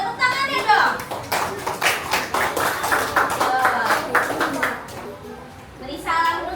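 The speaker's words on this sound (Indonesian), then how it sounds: "Tepuk tangannya dong." Children in a classroom clap their hands together in a lively burst that thins out, with kids' voices and chatter mixed under and around the clapping, then renewed talking at the end.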